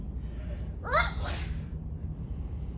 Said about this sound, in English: I tried to cover my mouth, but I sneezed a great sneeze.